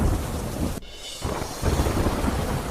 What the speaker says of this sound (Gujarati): દ્વારકા જિલ્લામાં મુશળધાર વરસાદ.